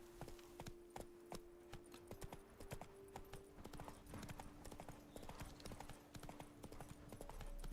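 Roach, the horse in The Witcher 3: Blood and Wine, trots with crisp, evenly spaced clip-clopping hoofbeats close up over a low sustained game soundtrack drone.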